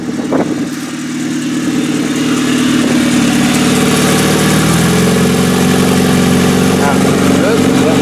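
A turbocharged 270 hp Honda Integra engine idles loudly and steadily up close, running lean at idle, its low rumble settling into a constant drone with slight shifts in pitch.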